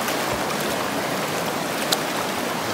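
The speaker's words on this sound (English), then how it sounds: "We'll get the pan and rinse some." Water sloshes and rushes steadily while a gold pan is rinsed at a New Zealand stream during metal detecting, a continuous broadband wash with one brief splash near the end and no talk.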